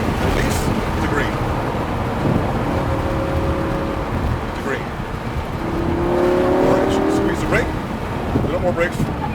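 A Lamborghini Huracan race car accelerates on a track, its engine note rising in two long revving pulls under steady wind and road roar, with an instructor's voice talking over it.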